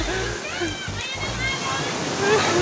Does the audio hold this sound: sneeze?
no